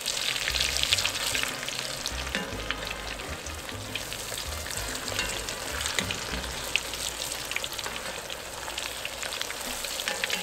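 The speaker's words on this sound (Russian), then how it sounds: "Переворачиваем мясо." Pork schnitzel sizzling steadily on a Weber charcoal grill after being flipped, a dense, close crackle and hiss that runs unbroken throughout with no talking.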